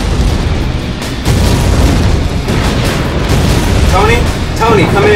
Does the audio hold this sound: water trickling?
no